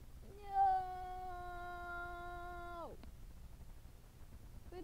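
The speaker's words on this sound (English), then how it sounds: "That is my kitty cat." A pet cat gives one long, drawn-out, tonal meow that holds steady for over two seconds and then drops off sharply, close and clear over a faint background hiss.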